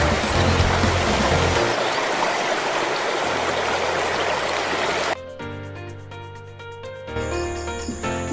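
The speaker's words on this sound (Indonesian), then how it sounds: "Air terjun ini terletak di Desa Mangkawani, tepatnya di Dusun Batu Api 1, yang rimbun dengan pepohonan hijau." The Labai waterfall in Mangkawani village, in the hamlet of Batu Api 1 among green trees, rushes with a steady, dense roar for about five seconds before music takes over.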